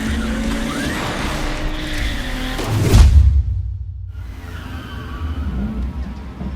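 Car engine roaring in a street race scene from a film, with loud revving, a tire skid burst near the middle, then a lower sustained engine drone.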